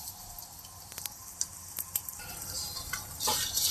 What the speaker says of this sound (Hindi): इसी घी में हम हमारे ड्राई फ्रूट्स को भी अच्छे से फ्राई कर लेंगे।